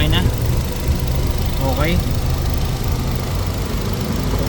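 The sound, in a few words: Nissan Almera 2019 engine idling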